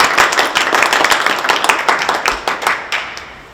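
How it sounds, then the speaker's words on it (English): Applause from a symposium audience following a weather talk, lively individual claps from a modest crowd that fade gradually toward the end. "let's just give a big round of applause."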